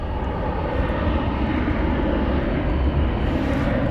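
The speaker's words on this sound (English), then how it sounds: "I hear a takeoff." A fixed-wing airplane taking off at DFW Airport, its engines giving a steady, loud, broadband roar that holds at constant strength throughout, with no voices.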